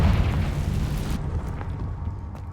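A blasting-spell explosion in a wizarding video game, a loud rumbling burst that roars for about a second, then cuts off and leaves a softer, crackling low rumble fading out.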